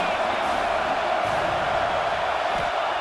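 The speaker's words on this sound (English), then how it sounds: "Big 3rd down as the crowd gets behind this defense." A stadium crowd roars behind the defense on a big third down in EA Sports College Football 26, a steady wash of cheering running under a commentator's talk throughout.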